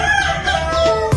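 Desi chickens cluck and crow together on a poultry farm, a dense, continuous flock chorus lasting just over a second with no talking.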